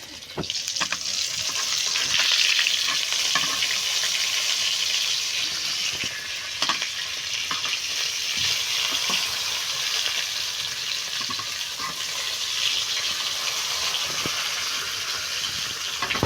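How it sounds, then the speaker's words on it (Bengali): Marinated fish fries in a pan, to be cooked with taro, giving a loud, continuous sizzle with faint crackles that holds steady throughout with no talking. "মাছ মেখে রাখছি আর ভাজা হচ্ছে"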